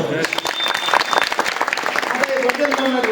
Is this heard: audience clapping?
yes